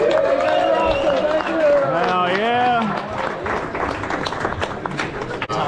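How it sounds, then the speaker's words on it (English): Applause and cheering from a banquet audience at a drift racing awards ceremony, a steady crowd clapping wash with a shouted cheer and talk over it. "Let's get another round of applause for the Banquet Brewery and their staff."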